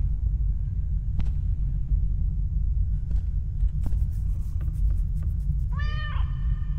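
A cat meows once near the end of a low, rumbling ambient drone in the horror video game Stairway 7, preceded by a few faint clicks and ticks.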